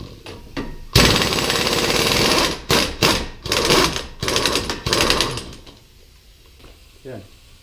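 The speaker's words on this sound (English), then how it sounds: "Okay, 32mm for the axle nut. I'll be using an impact gun since I already jacked it up off the ground." An impact gun hammers loose the 32mm rear axle nut on a 2005 Infiniti FX35 during a wheel bearing job, loud close bursts of rattling in several pulses, then quieter shop noise.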